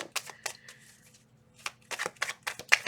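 Soft, crisp riffling and slapping of tarot cards being shuffled in short bursts, close and quiet with brief pauses between.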